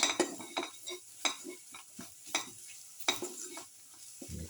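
A spoon stirs coriander powder into a garlic, potato and tomato casserole mixture, making rhythmic scraping clinks against the pot over a soft sizzle, with no talking.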